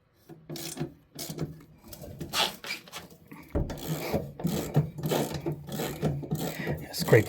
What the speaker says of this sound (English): Scrape these tiles off the floor too.